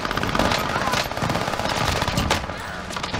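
Video game gunfire in a multiplayer shooter match, a dense run of rapid automatic shots rattling loudly and continuously for a few seconds with other game noise mixed in.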